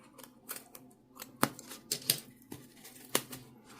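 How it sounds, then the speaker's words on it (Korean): Scissors snip through the two wrapping strands on a skein of Luffy cotton crochet yarn, a few sharp, dry clicks and snips spread over several seconds, close and fairly quiet with no voices. "얘를 가위로 끊어줍니다."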